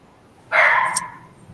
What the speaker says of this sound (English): No, that's his dog.